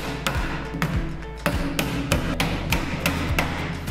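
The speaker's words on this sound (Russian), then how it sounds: "Следующий шаг – установка задней стенки. Она состоит из двух частей и фиксируется мебельными гвоздями." Furniture nails being hammered into the two-part back panel of a four-drawer dresser, a steady series of sharp, close hammer taps about every half second with faint low hum underneath.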